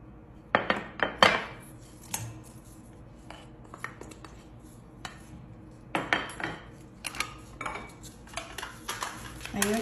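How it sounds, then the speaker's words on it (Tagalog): Spices are mixed in a bowl for chicken biryani, with irregular clinks and scrapes of a utensil against the bowl, some bursts closer and louder, a faint voice now and then. "Ngayon, imimix ko na din yung mga spicy niya."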